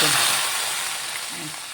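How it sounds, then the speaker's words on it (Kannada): A loud burst of sizzling as hot tempering oil is poured into okra curry, hissing strongly and slowly fading over a couple of seconds. "ಈಗ ಸಾರಿಗೆ ಈಗ ಚುಯಿ ಅಂತ ಒಗ್ಗರಣೆ"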